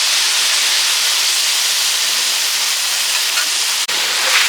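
Vegetables frying with onion, garlic and ginger in a pan, a loud, even hissing sizzle held steady throughout, briefly broken by a sharp click near the end.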